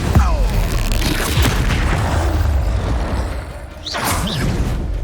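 Confringo spell explosions in Hogwarts Legacy, heard as a loud booming blast followed by whooshing rumbles and a second burst near the end.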